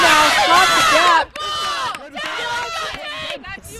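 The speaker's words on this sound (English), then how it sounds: "See the Vassar sideline there, just cheering on the defense here." Women's rugby sideline crowd at a national XVs championship match, Vassar supporters cheering and shouting for their defense, a loud sustained roar of many voices that dips briefly then swells again.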